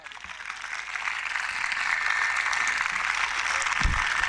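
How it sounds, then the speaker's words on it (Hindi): Applause from an audience welcoming a guest to the stage at a formal event, a steady, moderately loud wash of clapping that swells slightly and keeps going, with a low thump near the end. "आप सबकी भरपूर तालियों में,"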